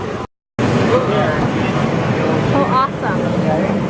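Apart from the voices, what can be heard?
airplane engine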